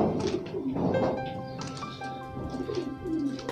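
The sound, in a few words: racing pigeons cooing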